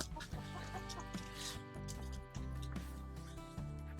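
Hens cluck in a backyard henhouse beside a greenhouse, a steady close chorus of overlapping clucks running throughout with no talk.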